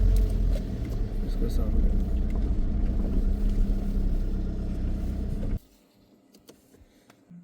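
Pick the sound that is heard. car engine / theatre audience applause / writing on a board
car engine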